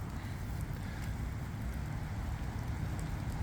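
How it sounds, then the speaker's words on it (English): Light rain falls steadily along a golf cart path in Spanish Springs, The Villages, Florida, during Tropical Storm Milton, a constant soft hiss with faint wind and no talking. "it is raining a little bit."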